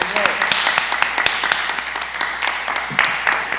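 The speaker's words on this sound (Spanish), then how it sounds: "Ese aplauso lo damos todos para el" A church congregation applauds during a Spanish-language Thursday fasting and prayer service, with brief bursts of clapping mixed with talk and a few crisp individual claps.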